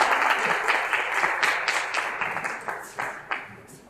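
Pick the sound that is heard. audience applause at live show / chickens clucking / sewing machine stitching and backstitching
audience applause at live show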